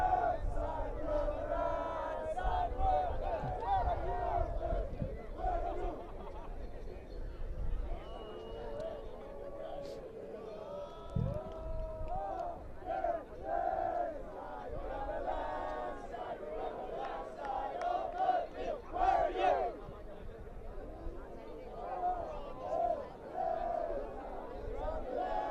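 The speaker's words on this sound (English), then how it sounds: "the crowd getting into a little bit more of a party mode" Lively crowd noise at an ultimate frisbee match at Paganello 2015, spectators cheering and chanting in a party mood throughout, a dense, steady roar with rising and falling shouts.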